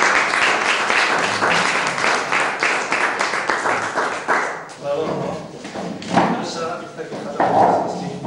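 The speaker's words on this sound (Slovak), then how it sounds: "Poprosím Petru Áčovú a myslím si, že to si zaslúži potlesk." Steady applause from an audience at a Slovak certificate ceremony, dense clapping that is loud and continuous and then thins into scattered claps near the end.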